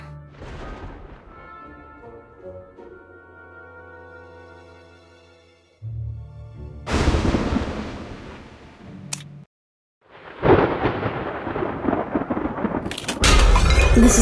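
Thunderstorm on a stormy night in the video game Identity V, with heavy rumbling thunder crashes and bursts of rain noise breaking in after quieter tonal music, loud and close, no talk.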